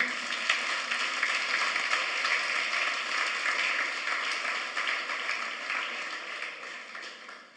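Steady applause from a church congregation, dense clapping sustained throughout and tapering slightly at the end.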